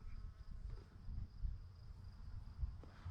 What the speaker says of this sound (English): Oh, there's some bees right there.